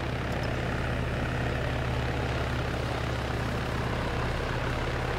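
A helicopter in the video game Arma 3 drones steadily with a dense, unbroken rotor and engine roar, close and constant throughout, with no talking heard.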